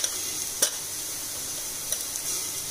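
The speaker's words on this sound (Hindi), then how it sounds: "प्याज को हमें उस स्टेज तक भूनना है जब वो थोड़ी सी पिंक हो जाए" Onions frying in a pan for veg jalfrezi make a soft, steady sizzle, with a few light clicks of stirring scattered through it and no voices.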